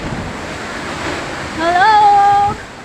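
Sea surf washes steadily onto the shore at Magdalena Beach Resort in Pinamalayan, Oriental Mindoro, a constant wind-blown roar that swells slightly toward the end while a voice briefly calls out.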